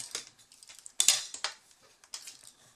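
Scissors snipping through paper card for a small curtain-style greeting card, a few short crisp cuts separated by brief pauses, close and alone.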